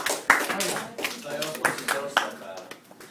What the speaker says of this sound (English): Ladies and gentlemen, give him a round of applause for this person